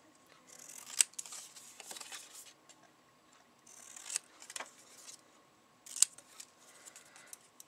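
Scissors snip through stamped paper banners in several bursts of crisp close cutting, with quiet pauses between them.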